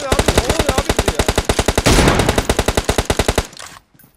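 Rapid automatic gunfire in PUBG Mobile, a long steady burst of evenly spaced loud shots running for over three seconds before cutting off into a faint tail.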